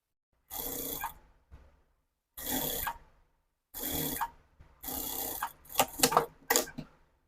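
Home sewing machine stitching a baby's short pants, heard as four separate bursts of fast whirring, then several quick short runs and stops, close and fairly loud with pauses between.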